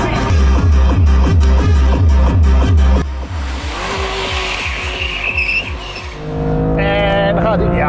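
A BMW M2 CS launches hard from a standstill, its engine roaring loudly through rapid gear-change pulses for about three seconds, then a sustained strained engine tone with faint tire noise, ending in a rising revving whine.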